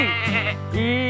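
A sheep bleats in a children's nursery song about a farm, one close, loud, wavering baa over a musical backing.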